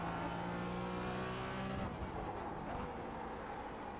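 A Porsche 718 Cayman GT4 race car downshifting into second gear, its engine note dropping and blipping sharply before the revs climb again, loud and close throughout.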